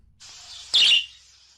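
A single shrill, hissy bird call rings out close by in a video game, swelling briefly louder in the middle before trailing off.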